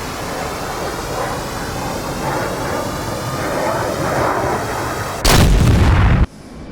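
A heavy explosion from bombs striking a target in the DCS F/A-18 flight simulator: a low ambient rumble of aircraft and wind builds, then a loud, broad blast lasts about a second before cutting off sharply.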